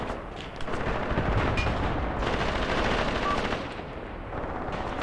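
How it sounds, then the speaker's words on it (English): Dense, sustained machine gun fire in the Graviteam Tactics Mius war game, rapid overlapping bursts forming a continuous crackling roar with occasional heavier reports, fairly distant and uniform throughout. "right now they are starting to receive machine gun fire and they're being cut down"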